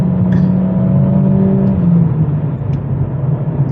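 A 420 HP Mercedes CLA45s AMG in race mode pulls away on wet roads, its engine a loud, low steady drone heard from inside the cabin, rising slightly before settling into a rumbling cruise.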